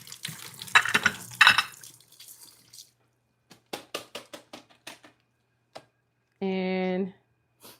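Green onions rinsed under a running kitchen tap, with a brief gush of water and splashing followed by scattered drips, mixed with a person talking nearby.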